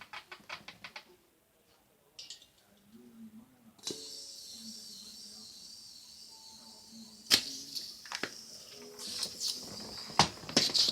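A gas-powered airsoft gun fires in several sharp, spaced bursts on full auto, with quick clattering pops between quieter handling clicks and a faint hiss, close to the listener.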